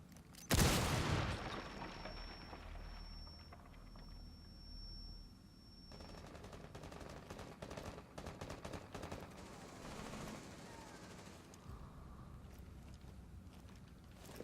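In Rainbow Six Siege, a loud burst of gunfire opens the sequence, followed by ongoing game noise, a steady tone and further scattered shots and rumbles at lower level.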